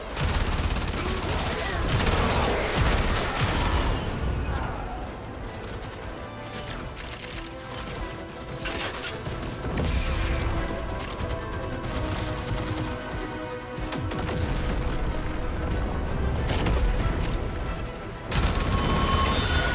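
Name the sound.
turrets firing in the video game Warframe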